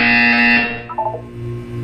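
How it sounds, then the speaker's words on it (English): A harsh electronic buzzer sounds once in the video game Portal 2. The tone is loud and sustained for about half a second and then cuts off, followed by a few softer low tones. "When you hear the buzzer, look down at the floor."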